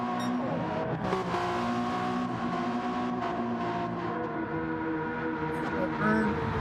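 Toyota GR010 Hybrid Le Mans race car engine in a racing game, revving hard and sustained at high pitch, with steady engine drone and gear changes throughout while people talk over it.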